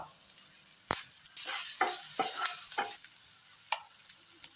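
Onion, tomato and curry leaves fry in a pan, with a low sizzle under a run of close spatula scrapes and knocks, including one sharp clack near the start.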